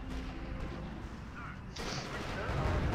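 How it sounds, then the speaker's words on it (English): Heavy gunfire in the World War II strategy game R.U.S.E.: steady, dense rumbling shots and artillery-like thuds, fairly faint, with a louder surge partway through. "Unit under sustained fire."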